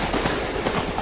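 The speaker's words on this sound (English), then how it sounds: "the Star Train finally arrived in the magical city" A fairytale-style steam train pulls into a magical city, its wheels and carriages rumbling in a steady, loud, dense rolling sound with faint rhythmic clatter, heard alone without voices.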